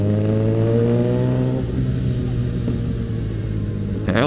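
Suzuki Bandit motorcycle with a loud aftermarket exhaust, a steady close engine drone with strong rumbling harmonics that shift in pitch as it rides, with a brief rise at the end.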